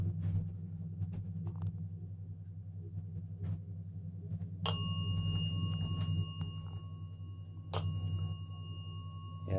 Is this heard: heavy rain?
no